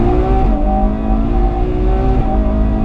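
A front-engine V12 Ferrari 812 Superfast accelerates hard out of a tight left-hand hairpin at Fiorano, its loud, steady engine note climbing in pitch, close and with no talk over it.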